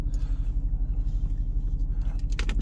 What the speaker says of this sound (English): I don't know if y'all can hear this truck.